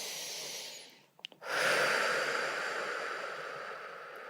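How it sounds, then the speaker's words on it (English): Slow, deep breathing during a guided prayer, heard up close: a long steady exhale, a short quiet pause with a sniff, then a full breath in. No one speaks. "Take a breath."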